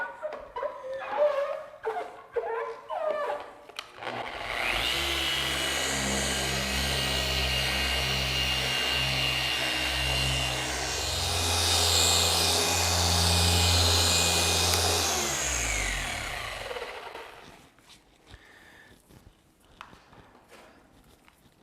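A machine polisher runs on the hood of a 2022 BMW G80 M3 Competition xDrive during a finishing polish. Its steady, loud motor drone starts up, holds for about twelve seconds and winds down, with quiet moments before and after.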